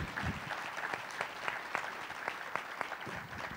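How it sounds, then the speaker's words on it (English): A conference audience at a business talk applauds its guests with sustained, moderately distant clapping, a steady patter with some sharper individual claps standing out throughout. "So can we give our guests a round of applause?"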